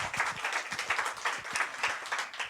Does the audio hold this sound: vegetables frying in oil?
no